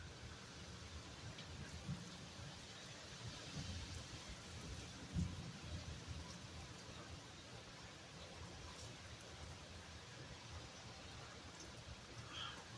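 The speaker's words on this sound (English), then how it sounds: "The thunder rolls and the lightning strikes." Steady heavy rain pours through a thunderstorm in Binghamton, New York, with low rolling thunder rumbling underneath and one stronger crack of thunder near the middle, continuous and fairly distant.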